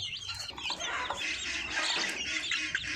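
Chickens cluck and call at a chicken farm in the morning, several birds overlapping in a busy, continuous chorus at close to moderate distance, with no talking.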